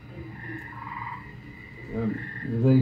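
Frogs croaking in a pond, a dense chorus of rasping calls that swells louder toward the end.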